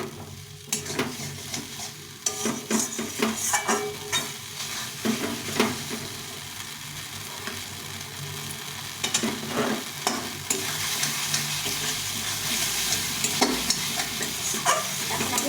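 Spice paste and potatoes sautéed in a pan for a Bengali rohu fish curry with tomato masala, a steady close sizzle under repeated scraping strokes of a spatula, continuous and fairly loud with no talking.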